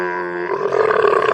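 A camel gives a deep, drawn-out groaning roar that grows rougher and more guttural midway, loud and close with nothing else audible.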